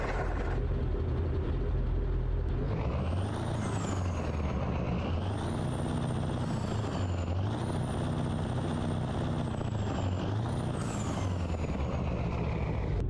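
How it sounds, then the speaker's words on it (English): A truck engine in American Truck Simulator rumbles into life and settles into a steady, loud idle, with rising and falling whining tones layered over the deep drone and no voices. "let's go ahead, start up the truck here, and let's hop in the interior"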